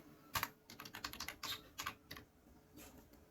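A roll number is typed on a computer keyboard while an online NEET UG application form is filled in: a quick, uneven run of close key clicks and taps with short pauses between bursts.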